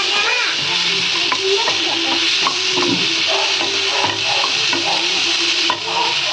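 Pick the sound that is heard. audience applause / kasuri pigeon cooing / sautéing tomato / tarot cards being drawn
sautéing tomato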